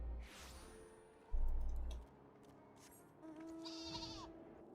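Sheep bleating from a sheep mount in Final Fantasy XIV, a few short calls standing out over game music and ambient effects.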